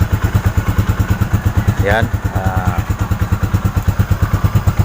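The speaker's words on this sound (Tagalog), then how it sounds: "warm up ko muna yung motor natin" Motorcycle engine warming up, idling close by with a steady rapid chugging pulse throughout, a brief rising whine near the middle, while someone says a word over it.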